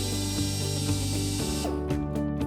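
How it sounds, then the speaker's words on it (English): A power drill with a 1/8-inch bit whines steadily at a high pitch while drilling a pilot hole for a wood gate bracket, its tone dipping briefly as the bit bites, then revving again near the end. "Using a drill with a 1/8 diameter drill bit, drill a small pilot hole."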